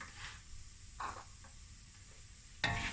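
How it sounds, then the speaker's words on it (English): Chopped garlic and ginger are stirred in a big pot for lamb akhni, a faint sizzle with a few short scraping stirs and a louder scrape near the end, quiet, with no talk. "Give it a nice stir."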